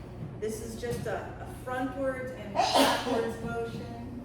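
A person sneezes sharply once in the middle of a guided spring yoga and breathing session, a short burst cutting across an instructor's calm spoken directions.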